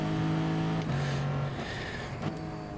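Race car engine in Gran Turismo Sport roaring hard off the line at a race start, a loud sustained whine rising in pitch, with a quick gear shift break after the first second before the note climbs again.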